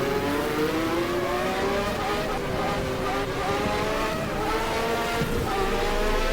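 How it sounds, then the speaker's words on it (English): Pink Richard Lloyd Porsche 962 race cars in the GTR2 racing game at Sportsland Sugo howl steadily, their engines rising and falling in pitch as they accelerate and shift, loud and close throughout. "Now the two pink Richard Lloyd Porsche 962 in front."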